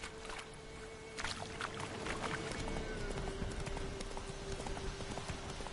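Roach the horse gallops in The Witcher 3, a steady clip-clop of hooves drumming close by over an ambient game backdrop with a sustained tone, no talk.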